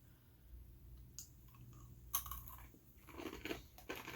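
Butter and cinnamon candied nuts with a crystallized sugar coating being chewed close up, a series of soft irregular crunches and bites that are quiet and intermittent, with no talking.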